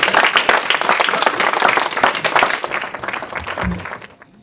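A church congregation at a family service claps and cheers loudly, a dense, sustained burst of applause that thins out and fades toward the end.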